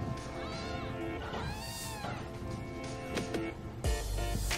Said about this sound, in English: Glad everything is okay with the kitties and Mengue.